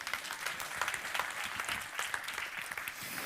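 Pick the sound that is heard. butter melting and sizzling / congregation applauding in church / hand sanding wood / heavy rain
congregation applauding in church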